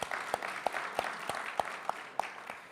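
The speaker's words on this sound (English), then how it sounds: "Let's have a round of applause" A round of applause from the audience at a federation legacy lunch: a dense, moderate wash of clapping with a few louder, regularly spaced nearby claps punctuating it.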